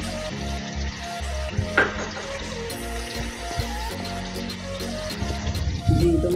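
Garlic and ginger paste sizzles and fries steadily in a hot pan with a brief stir or clatter partway, all close up with no voices.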